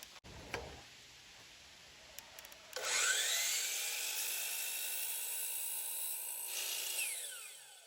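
Wood is shaved down on a handmade wooden box. A few light taps and ticks come first, then a steady, high, whining tool cuts in and runs close and continuous almost to the end.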